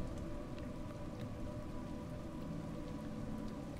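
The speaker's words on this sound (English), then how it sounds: "It's raining." Steady rain falls in the video game A Juggler's Tale, a continuous soft patter with scattered droplet ticks, even and unbroken throughout at low volume with no voices.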